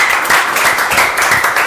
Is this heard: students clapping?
yes